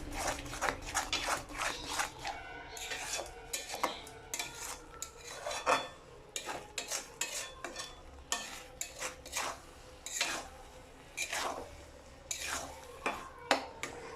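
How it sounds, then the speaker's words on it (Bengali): A spatula scrapes and clatters irregularly against a pan as a thickening coconut and jaggery mixture is stirred and dried out, with loud close scrapes and a quiet sizzle underneath. "ধৈর্য ধরে খুব ভালোভাবে এটা নাড়াচাড়া করতে করতে এটা আমরা আরও অনেকটা শুকনো করে ফেলব।"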